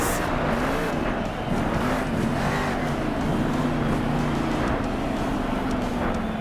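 A monster truck engine revs hard and steadily as it spins through donuts at a Monster Jam arena, a loud, continuous roar with rising and falling pitch over crowd noise.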